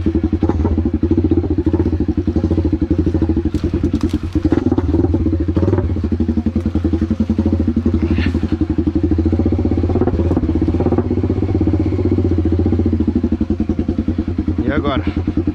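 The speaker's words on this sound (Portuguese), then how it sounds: "Essa moto aqui eu acho que é mais pesada que a minha Falco." Honda CB motorcycle engine running heavily on a muddy trail climb, a loud continuous rumble with throttle surges and clattering thumps throughout, close and steady.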